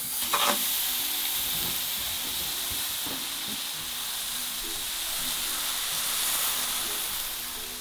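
Steady, loud sizzling and hissing of a thick bone-in beef rib steak frying in butter in a hot pan, with a brief clatter near the start and no voices.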